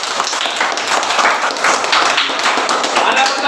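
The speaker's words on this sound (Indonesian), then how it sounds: "mari kita berikan tepuk tangan untuk kelompok 3" A classroom of students claps for group 3 after its presentation, a dense run of overlapping hand claps holding steady for several seconds, fairly close and loud.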